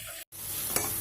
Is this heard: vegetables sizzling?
yes